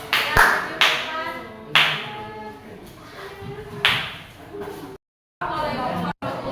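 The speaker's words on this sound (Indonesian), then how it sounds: "Ya, silakan tepuk tangan dulu buat Janeta." Scattered bursts of audience applause start and stop several times, with voices chattering between the rounds of clapping.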